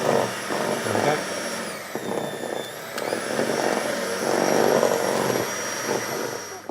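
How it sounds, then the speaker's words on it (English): An electric mixer whirs steadily while it beats a wet gingerbread batter with egg added, a close, continuous motor hum that shifts pitch briefly, with no one speaking. "You can see how wet the mix is now, and the value of using an electric mixer."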